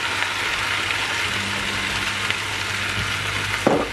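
Bell peppers for Algerian mhadjeb sizzle in a pan while being stirred, a soft steady frying hiss with a faint clatter near the end.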